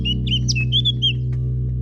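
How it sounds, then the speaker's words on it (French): A Eurasian blackcap sings a clear, fluty phrase of quick warbled notes, fairly distinct over a steady low hum throughout. "la fauvette à tête noire, espèce migratrice au chant clair et flûté"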